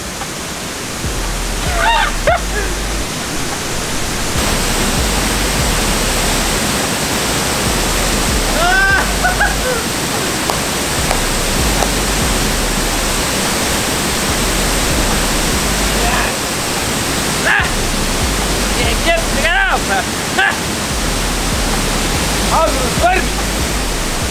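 Water pouring from a natural outdoor shower, a loud, constant rushing roar like a small waterfall, with scattered short voices and shouts breaking through at intervals.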